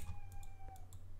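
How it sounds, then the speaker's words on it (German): A cat meows a few short times up close inside a Minecraft game world, the calls standing out over a low steady hum and faint tapping. "Katze, Alter."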